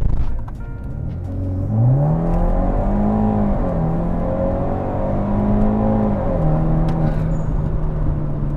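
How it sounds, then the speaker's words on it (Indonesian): BMW F30 in sport plus mode with traction control off, engine revving hard under acceleration with a rising and falling tone that holds steady and loud for several seconds, no talk over it. "Blow off-nya itu loh"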